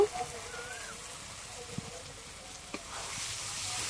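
Chicken masala with tomatoes cooking in mustard oil sizzles quietly in the background, with a few soft knocks of a spoon and a faint hiss swelling toward the end.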